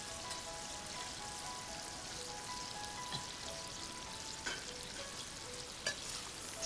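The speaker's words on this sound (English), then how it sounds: "Stir fry for about 2 minutes again." Garlic and red chili pepper stir-fried with cured Chinese bacon, a steady close sizzle and crackle with occasional light clinks of a spatula against the pan, no voices.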